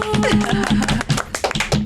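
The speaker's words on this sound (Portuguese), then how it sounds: "Palmas pra elas. Palmas, estúdio." A small studio audience claps for guests on a fashion podcast, a short burst of close hand claps mixed with overlapping voices.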